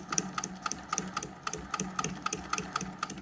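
A treadle sewing machine with a binder attachment stitches at a slow, steady pace, its regular mechanical clacks ticking in a close, even rhythm with no talking.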